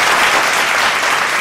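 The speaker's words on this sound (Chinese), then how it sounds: "好，我们给门徒班一个掌声" Applause for the disciple class from the audience at a church Bible-study award ceremony, a loud dense burst of clapping filling the hall without a break.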